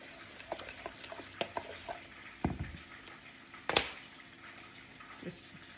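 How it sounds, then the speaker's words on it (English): A spoon stirs a batter mixture in a bowl, giving quiet, scattered clinks and a few sharper knocks against the side over a soft, wet background. "Mix it all together."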